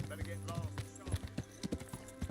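Horse hooves clip-clop in a steady, rapid rhythm inside a medieval video game, loud and close, layered over a low droning game soundtrack.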